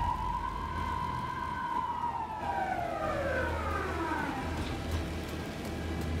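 A police car siren in the video game Alan Wake 2 sweeps in a falling, wailing tone, moderately loud over a steady rain-like hiss and low rumble.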